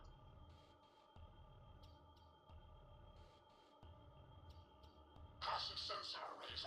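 A starship sensor scan in the video game Star Trek Online, heard as a bright electronic sweep that rises in the final second over a steady hum of ship ambience and pulsing low tones.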